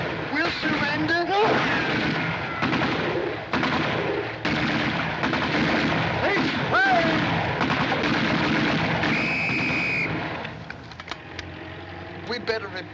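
Gunfire crackles through a scene of the 1941 comedy film Great Guns: sharp repeated shots and rumbling blasts over a running engine, with voices shouting amid the noise.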